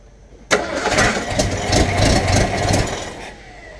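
A 1979 Ford engine cranks and catches abruptly, then runs at a rough, uneven idle with fluctuating revs before settling back, loud and close with no talk.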